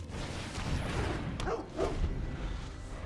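A Blink Dog card in the MTG Arena video game lets out a short synthetic bark with a whooshing swish, one brief yap over a soft game ambience.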